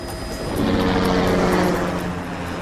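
Steady, loud rotor and turbine drone of a Sikorsky S-92A helicopter in flight, a continuous broadband roar with a faint repeating beat and no voices.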